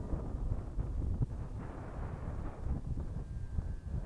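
Wind buffets an outdoor microphone at a model Spitfire flying field in heavy, continuous low rumbling gusts that crackle and thump unevenly, with no voices.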